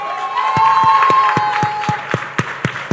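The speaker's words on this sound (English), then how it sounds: "give a rousing, warm hand clap to the Honorable Lisa T. Ramming" An audience at a Caribbean awards ceremony claps warmly, with sharp, distinct hand claps standing out close by over a fuller background of applause, while a voice and a sustained musical tone sound underneath.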